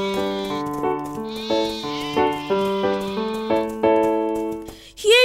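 Sheep bleating in a cartoon farm scene, a run of close, clear, tuneful bleats in quick succession, each held briefly, ending with a higher rising cry.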